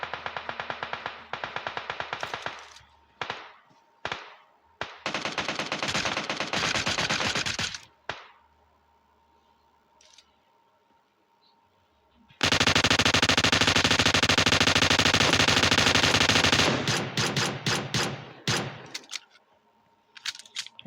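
Gunfire in PUBG Mobile, with rapid automatic bursts of varying length, including long sustained sprays and short clipped volleys, loud and close, separated by near-silent gaps.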